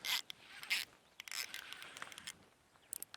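A baitcasting reel's drag clicker rattles in quick, uneven bursts as a bluegill pulls line out, the fast clicking sharp and close with short pauses between runs.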